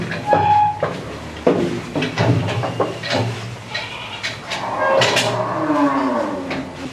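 Tall ash-coloured deshi bull of about 450 kg, tagged number 64, on an agro farm, lets out a drawn-out moo near the end amid shuffling and knocking noises close by, with no one talking.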